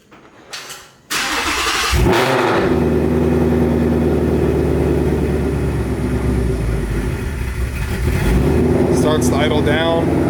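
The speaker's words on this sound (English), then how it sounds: "Let's give this thing a cold start" A Ford Coyote V8 in a Gen 3 car cold-starts with a short starter crank, then catches into a loud, steady, rumbling high idle close by, with a brief chop and some faint clatter near the end.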